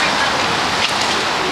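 Steady rain falling outdoors in the evening, a dense continuous hiss of drops on surfaces, fairly loud and even throughout with no clear talk over it.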